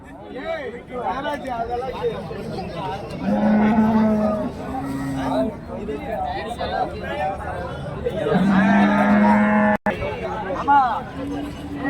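Cattle lowing at a livestock market in Karimangalam, Dharmapuri district, with dairy cows and calves present; two long, loud moos rise over a busy crowd of chattering voices.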